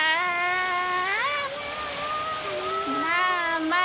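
Steady rain pours down in a Telangana village, a constant hiss while a voice sings over it.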